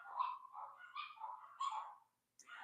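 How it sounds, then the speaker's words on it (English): Dogs bark from inside a home, a run of faint, muffled barks and yelps in quick succession, then a brief pause and one more bark, with no talking over them. "There's my dogs."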